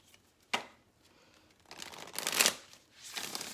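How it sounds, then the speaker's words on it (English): Tarot cards shuffled by hand in a few bursts: a sharp riffle snap near the start, then a longer fluttering riffle building and fading, and a softer shuffle at the end, close up with no talk. "I'm gonna go ahead and shuffle this up"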